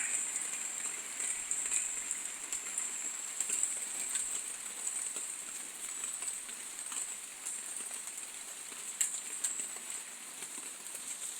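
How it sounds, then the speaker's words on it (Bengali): Steady rain falls on an Eid morning in a village after a night of rainfall, a continuous close hiss and patter with no break and no voices. "ঈদের দিনে সকাল সকালে বৃষ্টি শুরু হয়ে গেছে"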